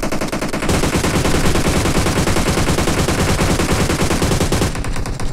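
Sustained rapid automatic gunfire in PUBG Mobile rattles loudly and continuously for several seconds, dense and close, with no talking.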